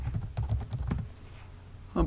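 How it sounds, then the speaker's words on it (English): Typing on a computer keyboard, a short burst of close, soft key clicks that stops partway, then a quiet pause before another faint tap. "So I can type"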